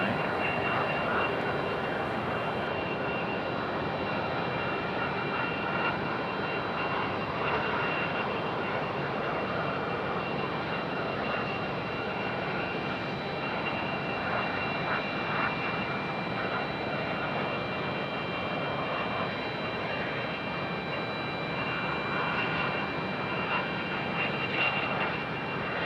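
An American Airlines Airbus A319 taxiing and swinging through a U-turn at Raleigh-Durham airport, its engines holding a steady, even whine and rumble for the whole stretch, with faint talk now and then.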